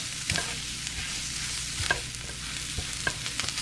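Hot dogs browning in a frying pan on turned-up heat give a steady close sizzle, with a few louder pops and crackles scattered through.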